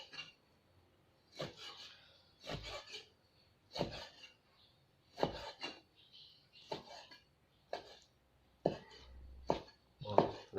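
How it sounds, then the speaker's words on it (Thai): Repeated sharp knife chops on a cutting board as giant snakehead fish meat is finely minced, about a dozen irregular thuds spaced a second or so apart, close and fairly quiet. "ทำการสับครับ สับให้ละเอียด เหมือนกันกับลาบเลยครับ"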